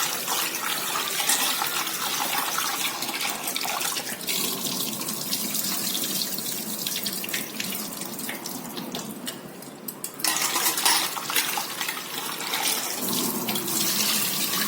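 Water runs steadily from a tap as prawns are washed and rubbed with turmeric in a kitchen sink, a continuous splashing flow that stays close and loud throughout with no talking.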